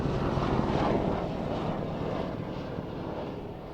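A military jet at the Waddington airshow roars overhead, loud and broadband. The roar peaks early, then slowly fades as it passes into the distance.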